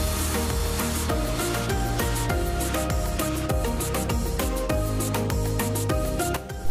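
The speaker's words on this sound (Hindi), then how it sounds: "मैं इन सब मिर्चों को रोल करूँगी ताकि इसके सीड्स जो है वो अलग हो जाए" Green chillies rolled by hand on a surface to loosen the seeds, a steady close rubbing and rasping texture, continuous and fairly even, with no talking.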